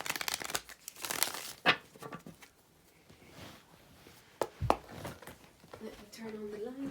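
Tarot cards rustle and flick in short bursts as they are shuffled, with crisp slaps between, close and quiet, with a soft voice near the end.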